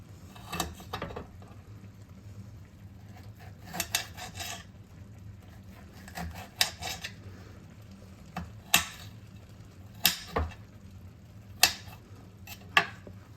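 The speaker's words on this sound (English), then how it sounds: "Got a nice boil going on." Birria liquid boils in a pan, giving faint, irregular bubbling pops and short sizzling bursts over a quiet, low background hum, with no one talking.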